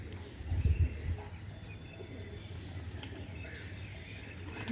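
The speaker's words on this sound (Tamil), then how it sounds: "கடைசியில் பார்த்தது புறா." Pigeons coo on a rooftop garden: a brief, low, throaty burst near the start, then fainter murmurs over a steady background hum.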